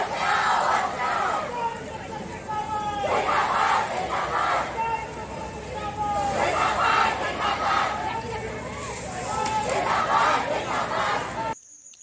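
A crowd of protesting students in Mandla is broken up by police with a water cannon. Loud, continuous shouting and crowd noise surge in waves for the whole stretch, with a steady rushing underneath. The noise cuts off abruptly at the end.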